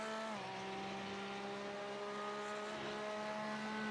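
A GT3 race car at Hockenheim powering out of a corner, its engine note held in a steady, sustained drone with a small shift early on, loud and close, with no one talking.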